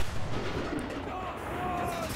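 A Churchill III tank fires a high-explosive shell in the WWII shooter Enlisted, a heavy, rumbling blast that rolls on as a sustained roar of battlefield noise with no clear sharp onset.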